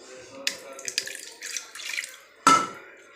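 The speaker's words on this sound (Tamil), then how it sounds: "அதை வந்து கொஞ்சமாக தண்ணி ஊற்றி கழுவி அதை ஊற்றிக்கோங்க" Water poured into a cooking vessel to rinse it while making onion-free tomato thokku, heard as a few short splashes and trickles, then one louder pour near the end, close and moderately loud.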